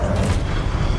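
Incendio fire spell cast in Hogwarts Legacy, a short loud whooshing roar of flame with a low rumbling body, lasting about a second with no voice over it.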